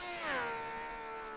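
A classic 1967 Formula 1 car with a naturally aspirated engine, heard in a racing video game, gives a brief rising then falling high-pitched engine wail, fairly faint and alone.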